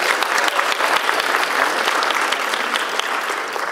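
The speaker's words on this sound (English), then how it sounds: "just give her a round of applause." Steady, dense applause from a breakfast awards audience honoring a woman in funeral service, a full room clapping continuously at close range with no talk over it.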